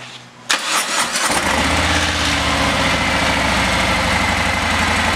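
A 2018 Harley-Davidson Softail Fat Bob with a 107 Milwaukee-Eight V-twin cranks briefly, then fires up at close range and settles into a loud, steady, deep, lumpy idle.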